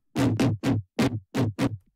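Serum synthesizer bass remaking the Valentino Khan "Deep Down Low" drop, six short punchy gritty bass stabs in a choppy rhythm, loud and alone.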